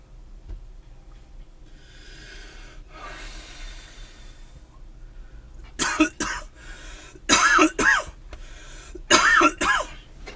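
A person coughs in several loud, harsh bursts close to the microphone, clustered in three groups with short breaths between, after a stretch of quiet breathing and faint hiss.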